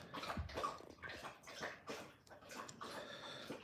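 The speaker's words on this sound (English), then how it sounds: "She's getting water." Water running from a household tap, a steady gurgling, splashing flow with uneven pulses, moderately near and alone with no voices.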